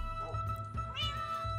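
Cat meows from the Minecraft video game, several short mewing calls in a row, fairly close and clear over a low steady game background hum.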